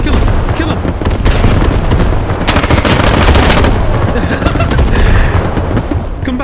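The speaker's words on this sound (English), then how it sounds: "Oh shit, we're getting shot." Rapid automatic gunfire and heavy booms in a US Army video game battle pile up in loud overlapping bursts, with one especially dense volley midway through.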